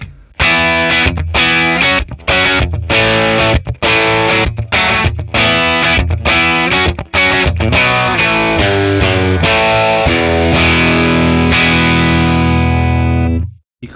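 Telecaster electric guitar played on the bridge pickup through a 1964 Selmer Treble n Bass 50 valve amp with no reverb, loud overdriven chords in a choppy stop-start rhythm, then sustained ringing chords that fade out.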